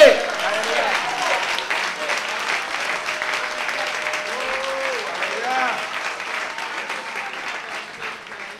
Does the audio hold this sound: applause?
yes